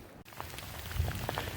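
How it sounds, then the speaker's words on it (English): Sleet comes down on a muddy trail near a mountain shelter, a soft steady hiss and patter on the ground with a brief dip near the start and a slightly louder low thump midway. "now we're getting sleet. See it hitting the ground?"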